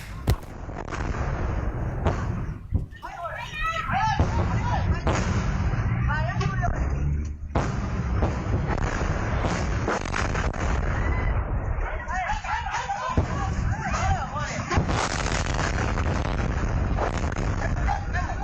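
Heavy bursts of gunfire and booming explosions in Thai–Cambodian border fighting, loud and repeated, with shouting voices and chaotic noise throughout.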